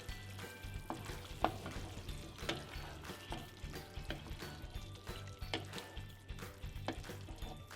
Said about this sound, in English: Finally, add your chopped coriander leaves and give it a quick stir.